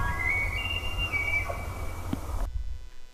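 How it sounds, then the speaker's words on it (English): Elk bulls bugling on an African bush hunt, thin high whistling tones rising and falling over steady low wind rumble, fairly distant, ending abruptly. "Hear those bulls bugling right there."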